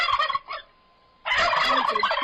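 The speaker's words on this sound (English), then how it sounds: "Here come the turkeys again." Turkeys gobble in a loud, close burst of rapid warbling calls, pause briefly to near silence, then break into a second, fuller chorus of gobbling with no one speaking.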